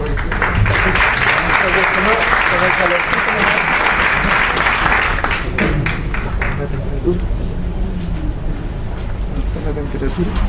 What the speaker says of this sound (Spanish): Un aplauso para don Jaime.